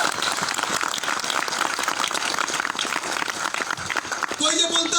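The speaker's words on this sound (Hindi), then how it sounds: "भाई जोरदार तालियां।" A large crowd at a corporate recognition program claps vigorously and continuously for five seconds, dense and loud, with voices rising briefly near the end.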